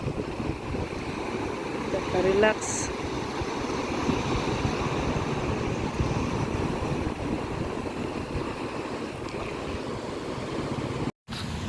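Sea waves wash steadily around a boat under constant wind rumble, with a brief voice heard near the start.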